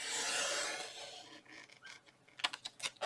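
Scrap paper cut along a score line to make stocking stuffer boxes gives a close, dry swishing rasp, then a run of short, crisp clicks and snips. No one speaks.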